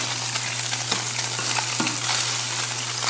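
Tofu for pad thai fries in a hot pan, a loud constant crackling sizzle with occasional stirring clicks over a low steady hum, close up and free of talk.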